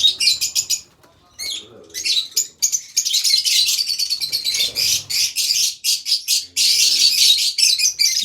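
Paradise parrots in an aviary chirp and tweet in rapid, overlapping bursts of shrill calls that go on almost without a break, loud and close, with only faint background sound beneath.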